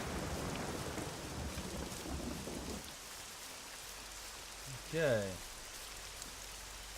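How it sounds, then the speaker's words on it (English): Rain in the video game SCUM falls as a dense patter that is heavy for the first few seconds, then thins to a softer wash, with a brief spoken word partway through. "The rain's quite nice. Nice effects."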